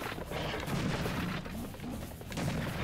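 Double-barrel shotgun blasts in Serious Sam HD: The First Encounter, loud, booming game gunfire filling the stretch with dense, continuous impact noise and no talk.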